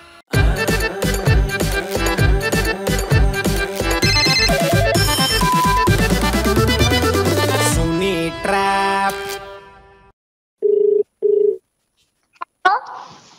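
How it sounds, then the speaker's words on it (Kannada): A telephone rings on a line while a prank call is placed, a loud repeating electronic ringtone pattern that fades out, followed by a few short tones and clicks. "ಬನ್ನಿ ಕಾಲ್ ಮಾಡುವ ಅನಿತಾಗೆ."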